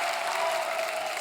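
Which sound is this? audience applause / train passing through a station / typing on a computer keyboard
audience applause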